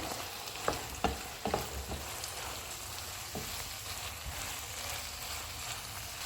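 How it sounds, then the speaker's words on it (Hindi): Bell peppers fry in a pan with minced-meat keema, making a steady soft sizzle with a few sharp clacks of a spoon or spatula stirring early on. "शिमला मिर्च डालेंगे। इनको 3 से 4 मिनट तक भूनेंगे।"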